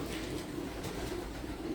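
A pigeon held in the hand gives low, soft cooing, a steady murmuring burble that runs throughout at close range with no talk over it.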